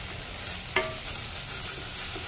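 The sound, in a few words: spice paste frying in oil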